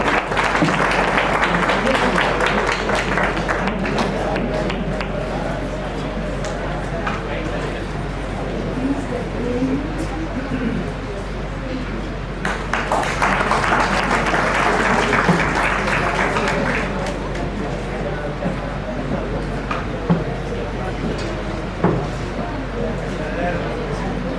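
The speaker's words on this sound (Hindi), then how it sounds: "दोनों तालियां तो बजाइए" Audience applause at an Engineer's Day event at a polytechnic college in Patna, a long rolling wash of clapping that swells in two bursts, with voices speaking over it.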